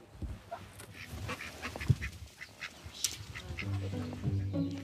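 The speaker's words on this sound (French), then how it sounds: "C'est mes petits canards coureurs indiens." A small flock of Indian runner ducks quacks nearby in a garden, with several overlapping nasal calls that grow busier toward the end.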